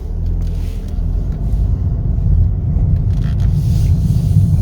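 Low, steady engine and road rumble from a 2021 Toyota Corolla LE on a test drive, heard from inside the cabin, growing slightly louder as it picks up speed.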